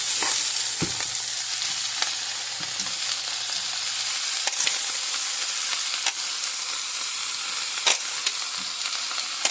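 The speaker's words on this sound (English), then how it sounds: "Go ahead and throw your Napa cabbage in there. And then this should cook down real nice." Steady loud sizzling of napa cabbage frying in a hot pan, a constant crackling hiss with occasional sharper pops and stirring clicks.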